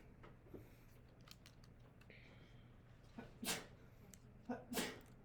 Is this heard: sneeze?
yes